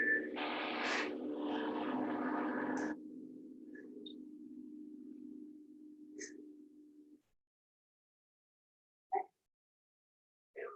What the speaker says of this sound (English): Sorry about the drilling.